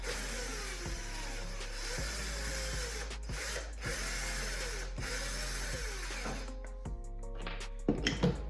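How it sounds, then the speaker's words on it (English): Screws being backed out of a mirror frame with a power driver, a steady whirring motor running through most of the stretch with brief pauses and clicks, ending in a few sharp knocks. "now I'm just taking the screws out"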